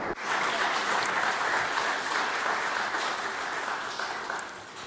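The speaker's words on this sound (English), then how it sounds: "In še aplavz za gospo." Sustained audience applause at a World Bee Day award ceremony, a steady, dense wash of many clapping hands that begins abruptly and tapers slightly toward the end, heard from within the hall.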